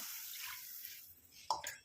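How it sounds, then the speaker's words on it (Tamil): About a tumbler of water pours into a pan with a soft hiss, followed by a couple of small splashing drips; the sound is quiet and brief. "இதில் வந்து ஒரு டம்ளர் அளவுக்கு தண்ணி சேர்த்துக்கலாம்"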